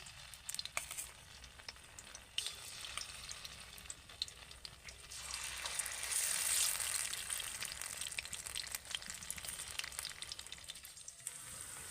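Okra (bhindi) pieces fry in a pan with a soft, continuous sizzle and faint crackles, growing a little louder midway through, with occasional light scraping from stirring.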